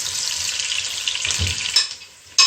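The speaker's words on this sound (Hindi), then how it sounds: "साथ ही एक प्याज डाल देते हैं, तो फ्राई करते हैं।" Onion frying in hot oil in a pan for haleem, a steady bright sizzle with low stirring rumbles, then a brief quieter moment before the sizzle surges again.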